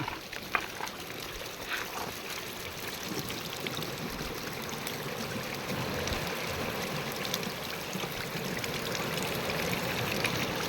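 Spring water flows from under a rock and splashes continuously nearby, a steady bright rushing with light gurgling and no voices.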